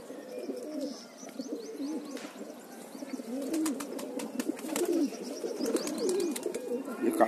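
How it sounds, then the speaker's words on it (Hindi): Pigeons coo continuously in soft, overlapping murmurs, with occasional higher chirps and a few sharp clicks, close by and steady throughout. "बहुत ही बेहतरीन कबूतर हैं इनके पास।"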